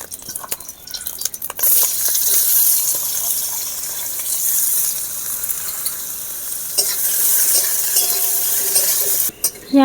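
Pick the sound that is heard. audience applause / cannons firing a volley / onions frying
onions frying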